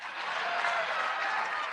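An audience breaks into cheering and applause, a steady wash of clapping that holds level throughout and sounds fairly close.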